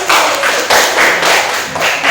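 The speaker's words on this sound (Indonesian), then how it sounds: "Tepuk tangan untuk Ferdi." A small group of primary school pupils claps steadily and close by in a classroom, with rhythmic pulses of applause throughout.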